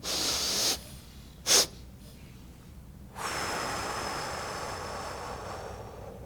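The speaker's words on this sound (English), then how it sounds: "You breathe in through your nose, and then you take a second sniff, and then a long exhale." A guided breathing demonstration: an audible inhale through the nose, a short sharp second sniff, then a long steady exhale, close to the microphone with quiet gaps between.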